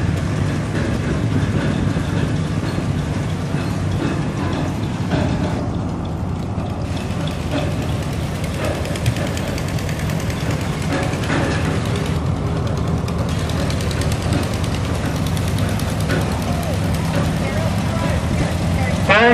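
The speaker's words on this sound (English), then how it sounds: "a 1970 John Deere 112 garden tractor with some little hoppers in the back." A 1970 John Deere 112 garden tractor fitted with small rear hoppers runs steadily at a threshermen's show, its engine giving a continuous loud mechanical drone with clattering, ratchet-like texture throughout.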